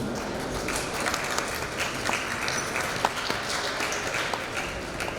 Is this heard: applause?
yes